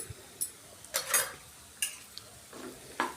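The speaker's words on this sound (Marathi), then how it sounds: "मसाले आता आपण व्यवस्थित यामध्ये मिक्स करून घ्यायचे आणि थोडेसे हे मसाले पण आपल्याला परतून घ्यायचे" A spatula stirs and scrapes turmeric, red chili powder, chaat masala, coriander powder and garam masala through capsicum sabzi in a pan. A few short, close scrapes with quiet gaps between them.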